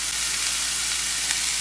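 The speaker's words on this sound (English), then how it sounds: "We're going to saute this for about 5 minutes." Zucchini, corn, garlic and Anaheim pepper sautéing in a pan, a loud, steady, close sizzle that stays even throughout with no talk.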